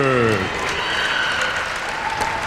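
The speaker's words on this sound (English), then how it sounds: "Crowd has come alive a little bit." Basketball game crowd cheering and applauding throughout, a dense steady wash of clapping and shouting, with a voice speaking briefly at the start before the crowd noise carries on alone.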